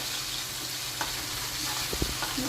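Onions and tomato fry quietly in a pan for prawn malaikari, a soft, continuous sizzle with a few light stirring knocks near the middle, no talking.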